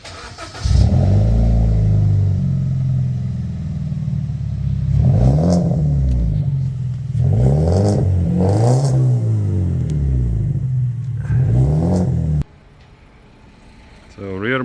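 A BMW 1 Series fitted with a Toyota Supra rear exhaust box starts and idles loudly nearby, revving up several times in bursts before the engine stops near the end. Voices are briefly heard over it.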